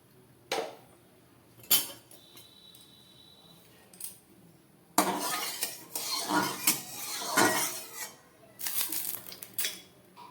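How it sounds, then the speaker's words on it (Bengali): Mustard oil goes into a kadai after cumin has been fried, for a live-fish curry with vegetables. Sparse metal clinks come first, then a dense, close burst of pan clatter and scraping that lasts to the end, with no voices. "এবার নামিয়ে এই কড়ার মধ্যে আমি সর্ষের তেল দিয়ে দিচ্ছি"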